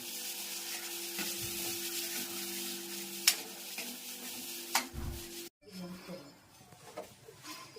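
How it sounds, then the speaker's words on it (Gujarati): Tempering (vaghar) for a sev tomato curry sizzles steadily in a pan, a continuous close hiss with a couple of sharp clinks, then cuts off briefly before quieter sizzling and stirring resume. "અને આમાં સરસ મજાનો વઘાર થઈ ગયો છે જોઈ શકો છો મસ્ત મજાનો વઘાર"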